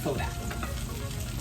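Chicken pieces sizzle steadily in a hot frying pan for a stir fry, a dense, even crackle of browning meat with no talk.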